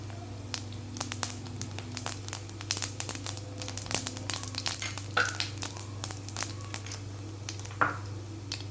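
Cumin seeds fry in a pan for tamarind chutney, giving off quiet, scattered crackles and pops against a low background hum, with no talking.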